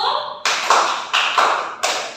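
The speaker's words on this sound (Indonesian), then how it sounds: "kita tepuk semangat dulu" A school class performs a rhythmic spirit clap in a seventh-grade lesson, with bursts of group clapping in counted sets, loud and close, each burst sharp at the start and then thinning out.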